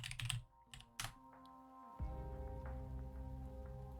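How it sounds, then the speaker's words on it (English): Clicky taps on a computer keyboard as commands are typed in a video game setup, a few quick bursts early on, then a steady tonal hum takes over the rest of the clip. "you got to type in commands"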